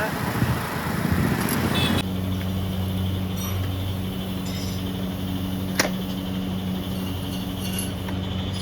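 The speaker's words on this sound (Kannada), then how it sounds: "ಇದೇ ಗಾಡಿ ಸ್ಪ್ಲೆಂಡರಲ್ಲಿ ಹೋಗ್ತಾ ಇರೋದು" Hero Splendor motorcycle riding along a road, its steady engine hum with wind and traffic noise, a voice talking over it early on.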